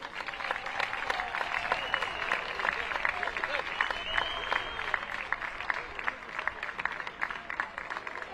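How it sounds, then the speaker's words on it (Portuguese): Sustained applause at a women's football tournament final ceremony, honoring the fifth-placed team, steady dense clapping from a crowd throughout, moderately loud with some voices mixed in. "Continuar nesta senda de salvas de palmas, desta vez para o 5º classificado"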